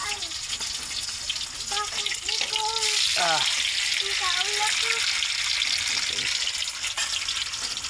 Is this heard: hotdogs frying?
yes